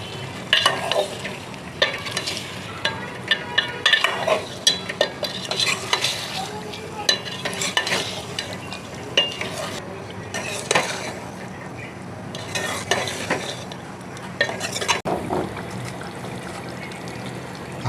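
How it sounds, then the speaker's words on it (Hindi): Tinda gourd pieces and chicken masala stirred and fried in a pan: steady sizzling under repeated scraping strokes of a utensil against the pan, with clinks of metal throughout. "इसको अच्छी तरह से भून लेंगे।"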